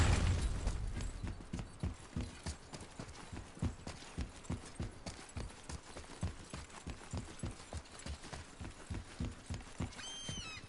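Steady clip-clop of horse hooves in the video game God of War, a brisk, regular rhythm, close and clear, with a brief whinny-like sound near the start.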